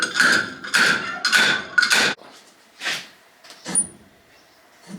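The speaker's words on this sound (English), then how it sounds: "We're just fitting the slide hammer straight onto the hub, and we're going to pull the thing off that way." Slide hammer pulling the rear wheel hub off a Toyota Hilux during a wheel bearing replacement: a run of four loud metallic clanks in quick succession, then a few softer, scattered knocks and thuds.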